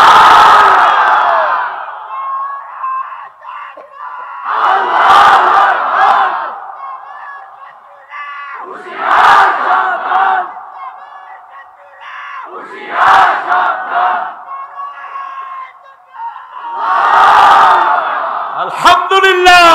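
A large crowd chanting a slogan in unison, with loud roaring bursts of many voices repeating every few seconds and a lone leading voice in the gaps.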